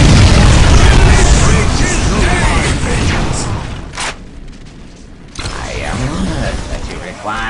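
Artillery fire and explosions in the video game Dawn of War: Winter Assault: loud booming blasts and rumbling bursts, fading midway then swelling again, with a sharp crack near the middle and voices heard in the battle mix.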